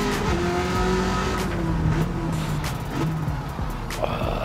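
A powerful car engine revving in the racing game Gran Turismo 7 on PS5, loud steady drone with rising and falling pitch as gears shift, brief tire noise near the end, no talk.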